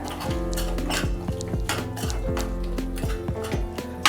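A metal spoon scraping and clinking steadily against a pan while soy sauce is mixed into soyabean chilli, close and rhythmic, with no voices.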